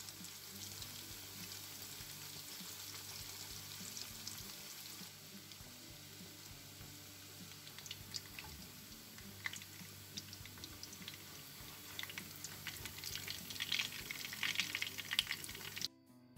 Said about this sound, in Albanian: Timin e qofteve do t'a bëjmë duke rotulluar biganin